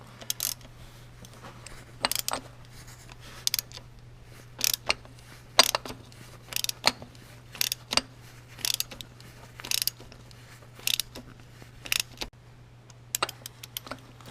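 Rapid, evenly spaced ratchet clicks in short bursts while a part is tightened during an oil change on a 2013-or-later Lexus GS350, close and crisp over a low steady hum.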